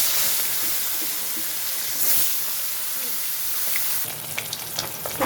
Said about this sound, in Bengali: এখন আমি মাছগুলো ভাজতে দিয়ে দিচ্ছি।